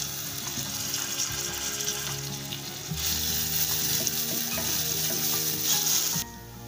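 Ginger garlic paste fries in hot oil with a steady, close hiss that runs throughout beneath louder background music.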